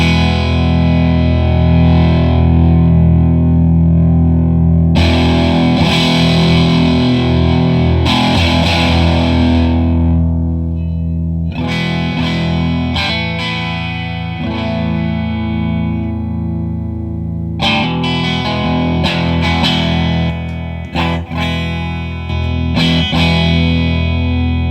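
Electric guitar through an Earthquaker Special Cranker boost/overdrive pedal set low on gain, giving a softer, less gritty distortion: sustained chords and ringing notes with repeated fresh strums and decays, loud and alone.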